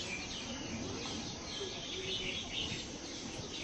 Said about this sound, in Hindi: चारों ओर बस पक्षियों की चहचहाहट सुनाई दे रही है अभी